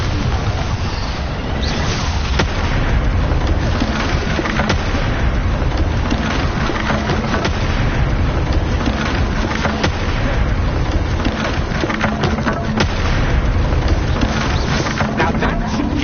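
Booming Bombarda spell explosions in Hogwarts Legacy rumble and crack through a dense, loud stretch of combat, heavy blasts and debris noise piling up continuously at close range.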